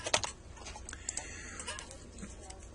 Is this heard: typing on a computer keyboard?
yes